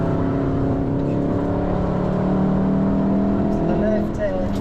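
A car pulls hard under throttle on a Nürburgring Nordschleife track day, its engine droning steadily and loudly close to the microphone with a faint rise in pitch toward the end, while a driver talks over it.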